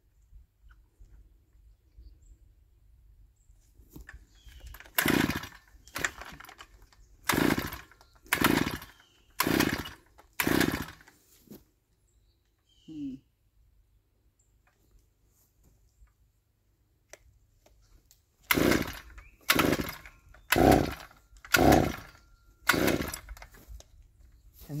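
A two-stroke chainsaw on an off-grid homestead is pull-started over and over, with loud rhythmic bursts of cranking in two clusters separated by a quiet pause, and it never settles into a steady run.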